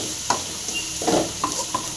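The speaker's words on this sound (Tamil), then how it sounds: "அது கூட பாருங்கள் தக்காளி போட்டு நல்லா ஃப்ரை பண்ணிக்கலாம்." Tomatoes fry in a pan for a bamboo shoot gravy, giving a steady close sizzle broken by a few soft stirring scrapes, with no talk.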